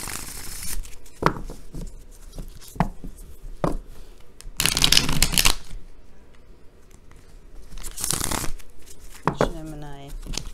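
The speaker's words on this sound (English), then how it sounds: "Give me just a couple seconds to shuffle." Tarot cards are shuffled in several bursts of riffling and brisk slapping, interspersed with soft handling taps, and a voice is heard near the end.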